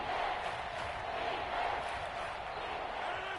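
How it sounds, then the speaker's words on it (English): Crowd in an American football video game on PS4 roars steadily ahead of a big third down, a dense, continuous wash of cheering that holds at an even level throughout. "the crowd getting into it as we come up on a big 3rd down"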